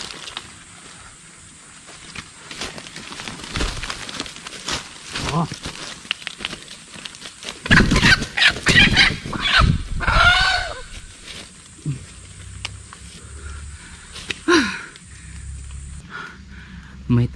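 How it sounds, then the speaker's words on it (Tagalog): A wild jungle fowl caught in a trap squawks and flaps amid rustling and crinkling, loud and close, while people talk over much of the commotion. "May talisayon na labuyo."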